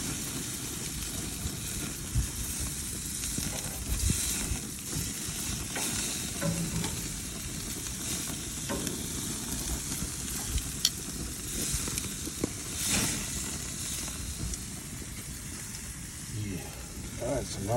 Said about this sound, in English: So now I'm just gonna let it grill mark for a couple minutes